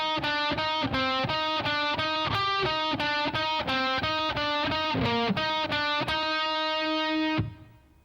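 Distorted electric guitar playing the lick: a fast, steady run of picked high notes repeating a short phrase, loud and saturated, ending on a held note that cuts off.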